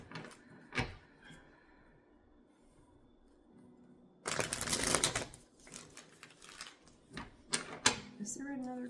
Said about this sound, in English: Let's put these cards back in here, shuffle them all back in